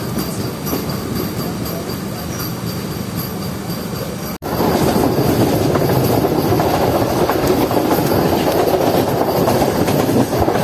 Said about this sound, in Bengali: আমাদের ট্রেন এখন যাচ্ছে জেলা সদর সিউড়ি রেলওয়ে স্টেশন